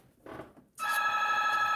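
A doorbell rings as the postman arrives, a sustained bright electronic tone starting after a brief soft knock-like sound, close and steady until the end.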